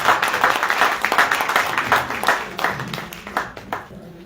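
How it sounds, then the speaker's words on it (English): A modest round of audience applause at a Dallas political forum, steady patter of many hands clapping at moderate volume for a few seconds before fading, with a faint voice underneath. "Round of applause."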